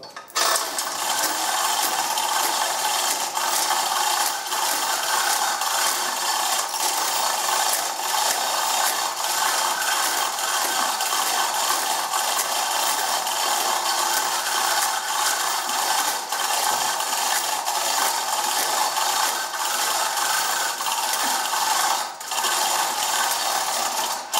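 A hand winch is cranked to lift a load in a workshop, with continuous dense mechanical clicking and rattling carrying on steadily for the whole stretch. There is no voice.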